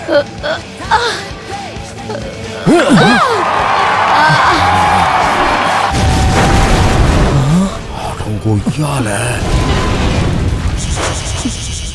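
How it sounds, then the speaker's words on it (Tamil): A bomb-like movie explosion hits a wall: a deep boom bursts out, then a second heavy blast rumbles with shouting and voices around it, loud and close. "என்னடா அது செவுத்துல போய் பாம் மாதிரி வெடிக்குது?"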